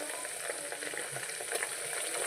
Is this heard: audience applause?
no